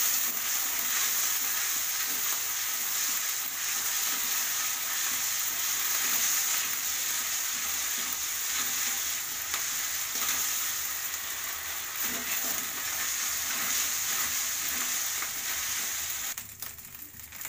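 Ginger and green chilli paste frying in a pan for pea-filled kachori stuffing, a continuous loud hissing sizzle with soft stirring scrapes throughout, cutting off abruptly near the end.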